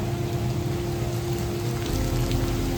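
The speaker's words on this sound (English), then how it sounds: "Just rain still." Steady rain falls during Hurricane Helene, a continuous dense patter at an even level with a faint low tone running underneath, and no voices present.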